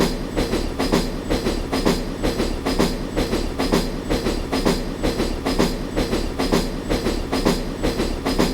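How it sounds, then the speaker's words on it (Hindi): An Indian passenger train pulls into a station, loud steady clickety-clack of wagon wheels over rail joints in a fast regular rhythm, close by and continuous throughout. "और हमारी ट्रेन आ रही है।"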